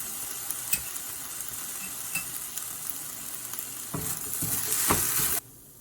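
Vegetables stir-fry in a hot wok with red and green chili sauces, dark soy sauce and chili vinegar, a loud continuous sizzle punctuated by sharp spatula clacks and scrapes that grows busier near the end, then cuts off.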